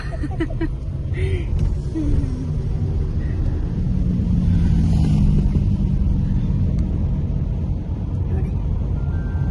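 Steady, low engine and road rumble from inside a new car on the move, a continuous droning hum with people talking over it.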